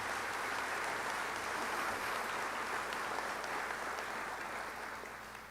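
Parents and families clap together at a school baccalaureate ceremony, producing a steady, dense wash of applause that holds at an even level for several seconds before starting to taper.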